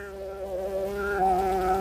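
Honey bees buzz steadily and close at an open hive during an autumn inspection, with a continuous droning hum that rises slightly in pitch and intensity partway through; no one speaks.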